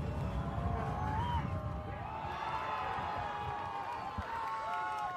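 Crowd at a college soccer match, Oregon State against Washington, with a loud stadium roar of cheering, stomping and blowing horns, horn tones sliding over a dense rumbling crowd.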